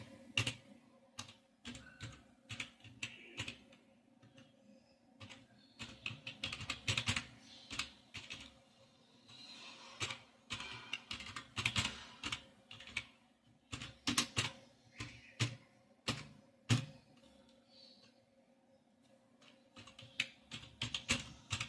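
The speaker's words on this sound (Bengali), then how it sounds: "তারপর লিখছি অভিষেক চ্যাটার্জি।" Someone types names into a spreadsheet on a computer keyboard, quick irregular key clicks close by, fairly faint, with no talking.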